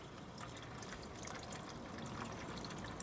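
Old black engine oil drains from the sump of a Rover P6 V8 during an oil change, a faint steady trickling pour heard close and alone.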